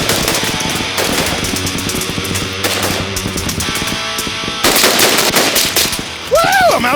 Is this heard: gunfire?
yes